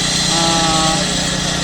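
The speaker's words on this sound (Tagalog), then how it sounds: "so we need to cut the construction joint" A concrete saw cuts a construction joint into a freshly poured concrete floor, producing a loud, close, continuous high-pitched grinding whine that holds steady throughout.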